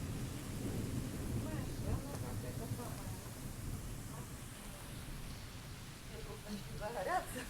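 A thunderstorm rumbles with steady rain, a low continuous wash of rainfall and distant thunder, faint overall, with quiet voices talking intermittently.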